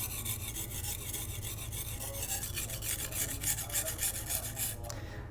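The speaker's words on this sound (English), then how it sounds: "I'm going to grind out the chip first using a higher angle, concentrating on where the chip is" A knife blade ground against a rough sharpening stone at a high angle to remove a chip, giving a steady, close, continuous rasping scrape that runs unbroken with small swells in intensity.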